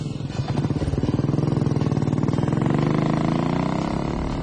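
A Royal Enfield Bullet single-cylinder motorcycle engine runs at a steady, close, loud idle, its even low thumping pulses filling the clip.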